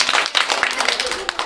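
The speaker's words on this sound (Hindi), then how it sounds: "चलिए एक बार इन लोगों को भी ताली बजा दो।" Schoolchildren clap for their classmates in a quick, scattered burst of many small hands, close and lively, with voices mixed in.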